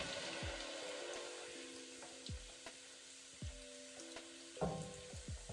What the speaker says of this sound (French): je vais verser du cidre